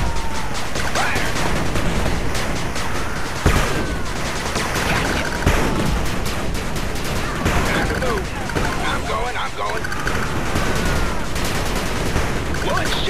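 Dense, continuous gunfire and explosions from the real-time strategy video game 8-Bit Armies, loud rattling bursts and booms layered over each other throughout, with in-game voice callouts mixed in.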